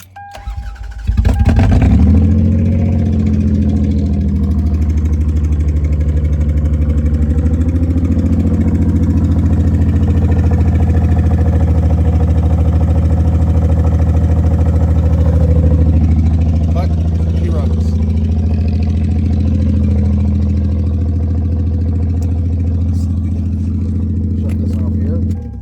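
Lexus RX300 SUV engine running loudly just after starting, a steady deep droning rumble from a leaky exhaust that holds close and strong throughout.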